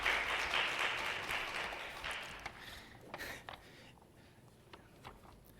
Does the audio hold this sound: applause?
yes